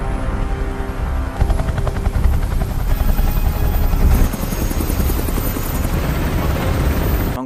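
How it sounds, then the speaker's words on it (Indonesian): Two military helicopters fly overhead in a war drama, heavy rotor thumping and turbine roar filling the scene loudly and continuously, swelling midway with a rhythmic chop. "Menggunakan 2 helikopter, Alan dan tim pun diantar menuju titik pendaratan"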